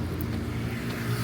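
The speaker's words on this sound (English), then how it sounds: "See, that is a tour van, possibly coming from the airport to pick clients." A tour van passes on a road near Entebbe, a steady low engine and tyre rumble with some wind noise, heard briefly at moderate distance.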